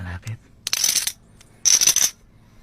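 A coin dropped during a prank game, heard as two bright metallic clinking bursts about a second apart, each a short rattle, with brief low voice sounds at the start.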